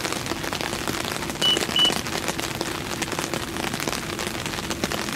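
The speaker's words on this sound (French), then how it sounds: "On est sous la pluie en plein mois d'octobre." October rain falls steadily during a carp fishing session, a dense close patter on surfaces lasting throughout with no talk.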